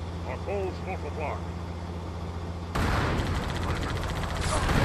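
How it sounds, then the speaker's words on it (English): Rocket launcher fire in the video game Halo 2: a loud, dense burst of explosive firing kicks in about midway and holds to the end, following a stretch of game ambience with brief chirping effects and low hum. "Rockets."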